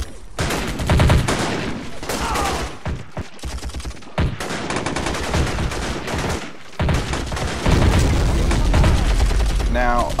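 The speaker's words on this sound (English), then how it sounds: "Mortar fire starting to come in." Mortar impacts and rapid gunfire in the war video game Strateejik Battles during an attack on a US airbase, dense bursts and booms crowding each other at close range, with a voice talking faintly underneath.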